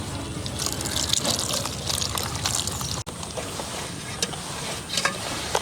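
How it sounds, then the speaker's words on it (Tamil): Water trickles and splashes steadily into a bowl of bajji batter, a continuous liquid pouring sound with a brief break partway through. "தண்ணி கொஞ்சம் கொஞ்சமாக ஊற்றி கரைச்சி எடுத்துக்கலாம்"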